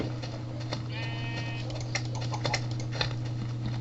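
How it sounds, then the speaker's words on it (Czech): A sheep bleats once in a video game, a short, quiet wavering call. It sits over a constant low hum and scattered soft clicking. "Ovečky."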